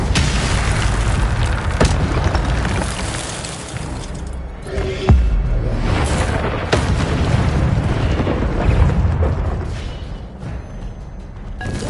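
An Incendio fire spell bursts in the video game Hogwarts Legacy amid a dense, loud mix of booming impacts and crackling effects, with a sharp thump partway through and continuous rumbling combat sounds around it.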